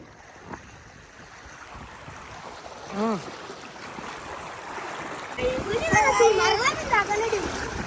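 Rushing village floodwater flows and splashes continuously during heavy rain, growing louder toward the end, while children shout and talk over it.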